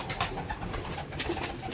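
Pigeons of many breeds at a Bongaon pigeon keeper's place give soft, overlapping coos against a dense, busy background hum.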